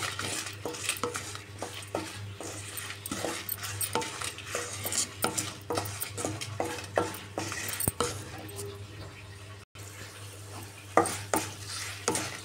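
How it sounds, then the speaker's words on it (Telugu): Gongura chutney frying on medium flame, stirred continuously in a pan: a steady sizzle under frequent scraping and clinking spatula strokes, close and even, without speech. "ఇలా మధ్యలో కలుపుతూ ఉండాలి, మాడిపోయే అవకాశం ఉంది."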